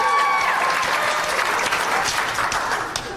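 Audience applause at a live comedy podcast taping, a short burst of dense clapping from a crowd that starts loud and tapers off within a few seconds.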